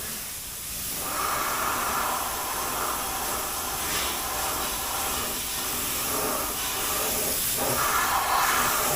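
Spray gun laying a coat of primer on a 1966 Mustang body near a taped stripe line: a steady, close airy hiss that swells into stronger bursts with each pass, with no talking.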